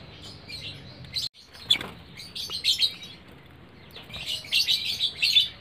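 Lovebird chicks chirping in a nest box, producing faint, high, thin chirps in short scattered clusters that grow busier toward the end over a low background hiss.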